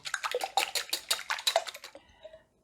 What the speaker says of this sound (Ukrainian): в миску вибиваю три яйця. І так, збиваю їх, е, скоріше, просто добре розмішую